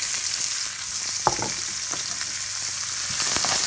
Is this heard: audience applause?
no